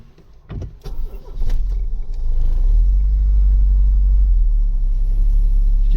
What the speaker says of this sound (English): it's now developed a rattle for the top end.